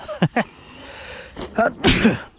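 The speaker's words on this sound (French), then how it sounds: "pourquoi s'excuser quand t'éternues? C'est naturel." A person sneezes several times in quick bursts: two short, sharp sneezes, a pause, then a louder, longer sneeze with a breathy follow-through, all close to the microphone.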